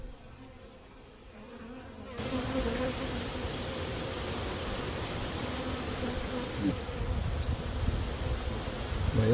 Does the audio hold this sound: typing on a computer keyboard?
no